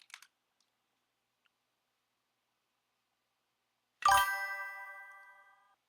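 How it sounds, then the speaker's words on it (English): A Streamlabs stream alert chime rings out once, loud and bright, with a ringing tonal ding that fades over about two seconds, preceded by a few faint clicks in near silence. "Streamlabs notification."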